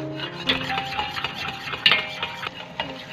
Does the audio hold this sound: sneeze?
no